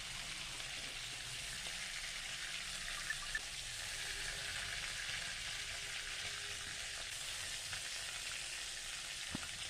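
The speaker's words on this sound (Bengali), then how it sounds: "খুব বেশি ভাজার দরকার নেই, হালকা একটু ভেজে নেব" Chicken pieces for a Bengali chicken curry sizzle lightly in hot oil, a steady even hiss with a few faint pops and no talking.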